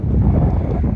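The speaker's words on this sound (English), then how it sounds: "It's real windy." Strong gusts buffet the microphone at an outdoor construction site, producing a loud, continuous low rumble that fills the whole moment.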